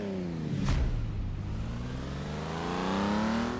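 A 2017 Tamo Racemo in Forza Horizon 3 accelerates close up, its engine whining upward through the gears with a short burst of noise early on, then holding a steady, rising drone.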